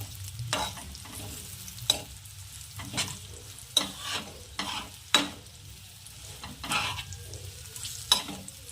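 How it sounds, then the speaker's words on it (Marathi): Green chillies fry in a pan over a low flame, with a soft, steady sizzle and occasional louder scraping stirs at irregular intervals. "मिरची छान असं पकू द्यायचं स्लो आचेवर"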